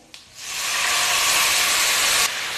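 Water hits hot spices, hing and Kashmiri chilli powder, in a pan, letting out a loud burst of steamy hiss that rises quickly and holds steady for a couple of seconds before easing slightly.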